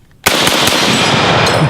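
Sustained M1 Garand rifle fire in a video game, a sharp loud onset followed by dense, continuous gunfire with a few distinct shot peaks, heard alone and close.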